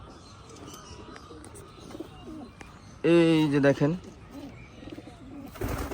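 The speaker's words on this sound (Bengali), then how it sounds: "কবুতর" Pigeons in a pet pigeon loft coo in one loud, close burst lasting about a second, surrounded by quieter rustling and background noise while a person talks nearby.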